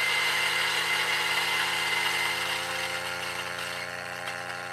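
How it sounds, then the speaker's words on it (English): A DF83 coffee grinder runs with a steady, close motor whir and grinding hiss. It holds evenly for several seconds, then eases slightly quieter toward the end, with no talking. "This DF83 is great. It grinds super fast."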